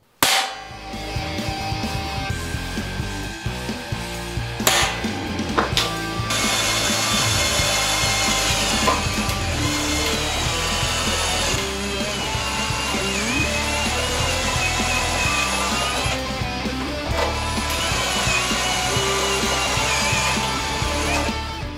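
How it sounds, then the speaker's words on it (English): Repeated bursts of a tapered drill bit drilling through thin sheet metal for a rain gutter, harsh grinding and rattling with sharp clicks and pauses between holes, close and loud, no voices. "I'll be using a center punch and a tapered drill bit to drill out the four corners"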